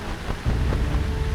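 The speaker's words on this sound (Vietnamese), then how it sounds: "Mưa xối xả." Heavy rain pouring down as a storm sound effect, with a deep rumble of thunder swelling in partway through and holding under the steady downpour, loud and close, no voices.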